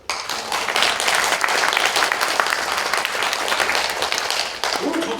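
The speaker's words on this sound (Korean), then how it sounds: "박수 한번 쳐주세요" A lecture audience in a large National Assembly conference hall bursts into sustained, loud applause, many hands clapping steadily for several seconds with only a slight dip near the end.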